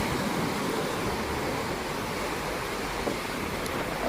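High sea water and waves washing against the shore in Zanzibar, a steady, loud broadband surf roar with wind mixed in, no voices.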